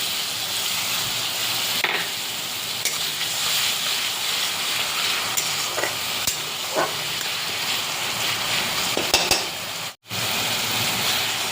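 Ground turmeric, Kashmiri chilli, cumin and coriander spices sizzling loudly in a pan after the spice-grinding water is poured in, a steady broadband hiss with a few scraping stirs and one brief break.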